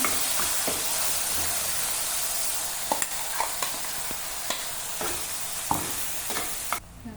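Masala spices fry in oil in a pan for a bottle gourd and peanut gojju, giving a continuous close sizzle. Light stirring taps and scrapes come through at intervals, and no one speaks.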